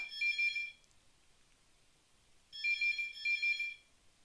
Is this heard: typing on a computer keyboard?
no